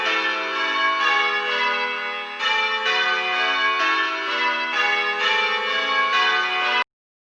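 Church bells peal in a continuous descending sequence, each bell struck in turn, plain hunting Little Bob Minor, loud and resonant with no voices, ending abruptly.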